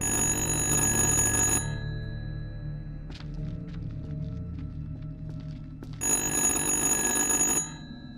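A telephone in the video game Little Hope rings in two loud, bright bursts of electronic bell trilling, with quieter clicks and room tone in the pause between them.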